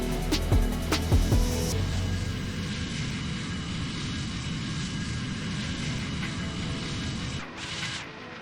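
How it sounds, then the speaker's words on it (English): Concorde jet engines roar in a flight simulator game, a steady broadband rumble that holds for several seconds after a few sharp clicks at the start, fairly loud and alone, with a brief hiss near the end. "Now let's find out how high can we fly this Concorde."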